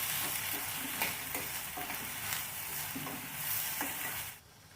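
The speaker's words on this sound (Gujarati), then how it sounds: "બધા જ મસાલાઓને મિક્સ કરી લઈએ।" Spice paste and masalas with red chilli powder, coriander-cumin powder and salt are stirred in a hot pan for a pea curry, a soft sizzle running under repeated scraping strokes of the spoon before fading out at the end.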